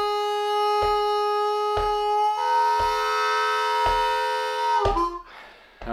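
Harmonica lick on a Bb harmonica: sustained bright reedy chords with repeated sharp rhythmic accents about once a second, close and loud, breaking off near the end.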